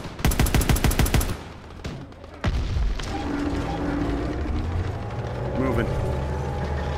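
A tank's coaxial machine gun in the Call of Duty WWII campaign fires a rapid, loud burst of shots for over a second, followed by a few heavy booms and then a rumbling engine and battle noise.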